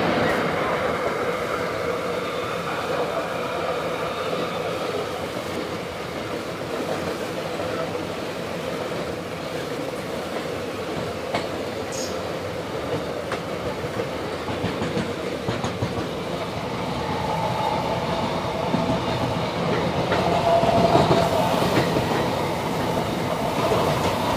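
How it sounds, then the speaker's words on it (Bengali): A Santragachi SF Express train runs into Vijayawada Junction with a steady rumble and rhythmic clatter of wheels on rails, heard from inside the carriage, growing a little louder and adding faint squeals toward the end, under some background talk. "আমাদের ট্রেন এখন বিজয়ওয়াড়া জংশন ঢুকছে।"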